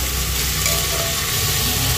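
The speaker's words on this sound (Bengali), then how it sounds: "এটা হচ্ছে এখন ভালো করে ভাজাটা হচ্ছে" Vegetables seasoned with turmeric frying in a pan for khichuri made with moong dal, giving a steady, close hiss and crackle of hot oil with faint stirring, continuous and alone.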